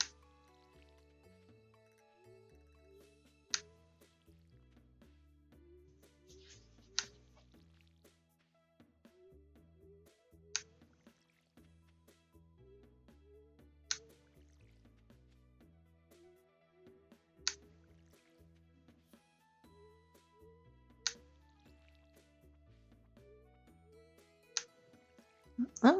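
In Stardew Valley, crops are watered with a watering can: soft splashing pours repeat every few seconds, each followed by a crisp tick, over quiet plinking game music.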